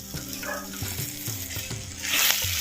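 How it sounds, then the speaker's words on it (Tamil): Spices, tomato and tamarind sizzle in hot oil for a village-style yam (karunai kizhangu) curry, with steady close frying hiss and a rhythmic scrape of stirring about every half second. "சேர்த்த அனைத்து பொருட்களையும் நல்லா எண்ணெயில் வதக்க வதக்க நல்லா வதக்கிக்கிட்டோம்"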